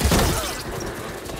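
A shot in the video game Horizon Forbidden West opens with a heavy, booming impact that fades into a broad, rumbling decay over a second or so, loud at first and then tapering off.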